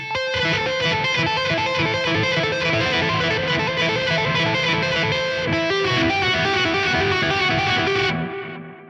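A distorted electric guitar is tapped in a fast, continuous stream of bright lead notes, loud and sustained, cutting off abruptly near the end.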